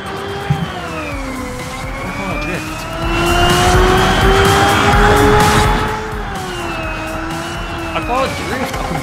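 Race car engine in the video game Xenon Racer, a sustained whining engine tone that rises and falls as the car is steered into a drift, loud and continuous with brief tire-squeal texture.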